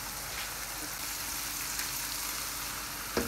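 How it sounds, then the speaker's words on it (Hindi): Chili powder, coriander powder and salt roasting in a pan, a steady soft sizzle and crackle throughout, faint and even with no talking. "अच्छे से भूनेंगे मसालों को।"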